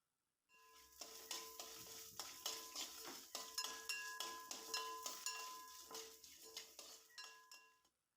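Coriander seeds and shallots sautéing in coconut oil in a pan, a constant soft sizzle broken by repeated clinks and scrapes of a metal spoon stirring against the pan, close and fairly quiet.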